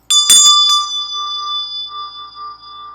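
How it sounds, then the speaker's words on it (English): A single sound-clearing bell is struck sharply, a brief bright clang, then its clear tone rings on and slowly fades, alone with no voices. "I'm going to start us off with a quick sound clearing"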